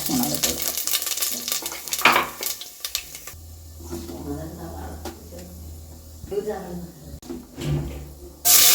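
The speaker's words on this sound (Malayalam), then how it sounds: "ഒരു സവാള ഇട്ട് കൊടുക്കാം ഇട്ടൊന്ന് വഴറ്റി കൊടുക്കാം" Onion sizzles and fries in hot oil while a spoon stirs and clinks against a pan, and a voice talks over the cooking.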